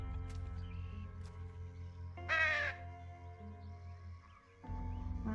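One crow in the Truberbrook video game gives a single loud, harsh caw over a steady low ambient hum, with no talk.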